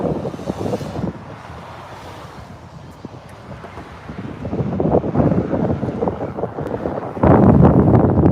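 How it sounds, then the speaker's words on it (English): Steady wind rushes across the microphone with a low rumble on a bridge in Fairview Park, growing stronger and gustier toward the end. "it's nice, it's windy. There's a really nice cool breeze coming over."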